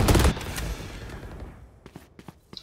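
Spectre submachine gun in the video game Valorant fires a loud, dense opening burst of shots that quickly fades into a faint tail, with a few scattered light clicks and taps afterward.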